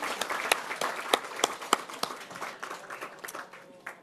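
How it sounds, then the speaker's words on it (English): Audience applause at a parliamentary celebration event, a burst of many hands clapping with sharp individual claps standing out, fairly close and gradually thinning toward the end, with no talking over it. "Can we give them another round of applause?"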